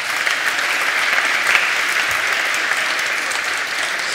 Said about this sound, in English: A round of applause then for Maxwell.